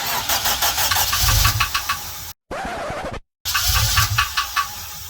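A rebuilt Honda K20Z4 engine swapped into a Civic EJ9 cranks and fires, roaring up loud with rough revving pulses, cut by two brief silent gaps before the engine noise resumes steady and close.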